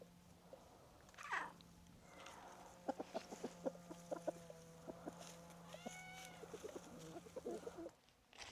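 A large pet cat meows several times in short, close calls over a quiet rural yard with a steady low hum, with a faint rooster-like squawk early on.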